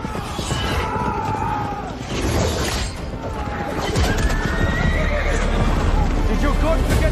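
Galloping horses pound out rapid clip-clop hoofbeats with loud whinnies and neighs, mixed with crashing effects and voices.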